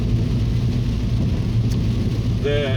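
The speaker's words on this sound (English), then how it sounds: "Still raining." Steady rain and a low rumble fill the inside of a moving car on a wet road, loud and continuous, with a brief tonal chirp near the end.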